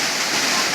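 Kachang Waterfall near Banlung in Ratanakiri, Cambodia, heard from its base: a dense, even roar of falling water, close and loud with no pauses.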